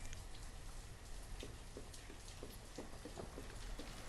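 Rain in the village-building game Banished, a dense steady patter with scattered soft droplet ticks spread evenly through the short stretch, faint and with no voices.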